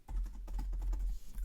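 Steady, close typing on a computer keyboard while writing in a note-taking editor, a dense run of key clicks lasting throughout with no voices.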